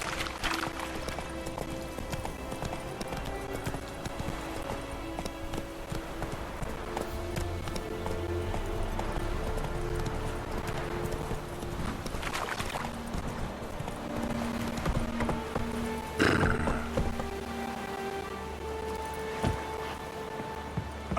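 The horse Roach galloping in The Witcher 3, a rapid, steady rhythm of clip-clopping hooves that carries on for about twenty seconds, with brief rustles and a clink along the way.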